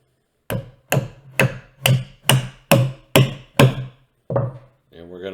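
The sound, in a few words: hammering wooden mallet parts together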